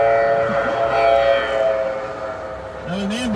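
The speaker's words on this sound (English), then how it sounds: "That was an ambulance." An ambulance siren wails over loud street traffic noise, its tone rising and falling, with a voice briefly audible near the end.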